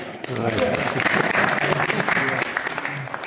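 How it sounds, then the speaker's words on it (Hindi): Audience applause at a New Year gathering in a residential society rolls on steadily, a thick crowd clapping loudly with some murmuring voices mixed underneath. "तालियां"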